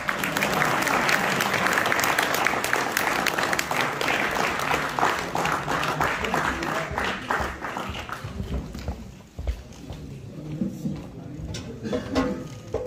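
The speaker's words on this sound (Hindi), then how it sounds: "आप सब इसका भरपूर तालियों से इस्तकबाल भी कीजिएगा" An audience at a mushaira, an Eid Milan poetry gathering, bursts into dense, sustained applause that welcomes a poet to the stage, loud at first and then thinning into scattered clapping, with voices murmuring underneath.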